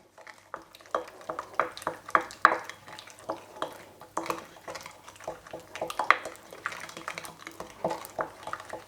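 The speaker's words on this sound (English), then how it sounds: "Then we stir it around so it got all dissolved." A spoon stirs a mixture in a bowl until it dissolves, for naan dough. The scraping clinks come steadily and close, in a busy rhythm with no talking.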